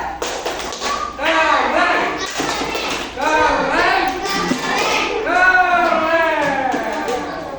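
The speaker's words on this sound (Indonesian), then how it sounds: "Tepuk tangan untuk kalian semua." Third-grade children in an elementary school classroom clap together in quick rhythmic bursts, the tapping mixed with their voices and a few thumps, close and fairly loud.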